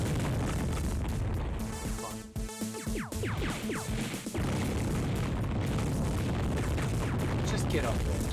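A video game turret fires on the player, producing a cluster of heavy booms and sharp blasts in the middle of a constant noisy game soundscape, and a person is talking throughout.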